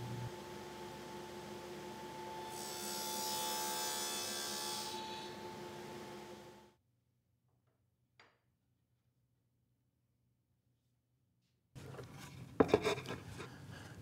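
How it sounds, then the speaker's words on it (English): A table saw cuts a dado in a wooden workpiece for a router table top, a steady loud whine for several seconds that stops abruptly, followed by silence, a faint tick, then brief clattering handling noise. "flip the workpiece around and repeat the process to cut the second dado"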